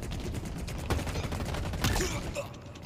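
Turret gunfire in a multiplayer shooter video game, with a continuous rattle of automatic shots and a few sharper cracks standing out, at moderate loudness.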